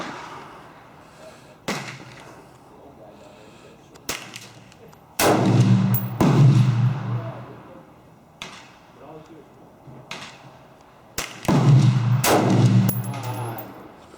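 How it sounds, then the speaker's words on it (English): Single AR-15 rifle shots with a changed barrel ring out at an outdoor firing range toward a target about 50 yards away, sharp loud cracks spaced a few seconds apart with someone talking faintly between them. "trying to shoot at that target all the way down there."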